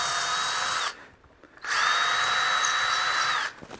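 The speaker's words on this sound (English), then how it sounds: "now I switch to a 3/16 inch bit, and I'm going to drill just through the cleat" Power drill fitted with a 3/16 inch bit boring through a wooden cleat, heard as two loud, close, high-pitched whining bursts separated by a brief pause.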